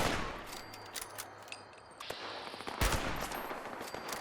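Weapon gunfire in Fallout 76 comes as a fairly faint run of rapid, sharp shots, with bursts of fire scattered across several seconds and one louder crack near the end.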